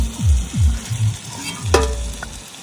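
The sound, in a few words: prawns frying and being stirred in oil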